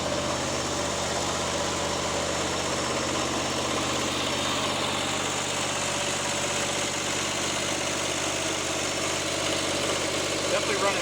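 Small lawnmower engine idling steadily in a shop, a continuous close, moderately loud hum with even vibration and no pauses, running after being worked on for a suspected fuel problem, with someone speaking over it.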